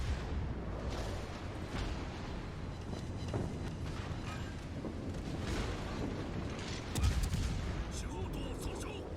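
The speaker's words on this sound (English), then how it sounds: "What am I getting shot at?" Gunfire and shell impacts strike a destroyer in World of Warships Legends, a dense, continuous barrage of booms and rumbling explosions with a sharper blast near the end, set against game music and effects.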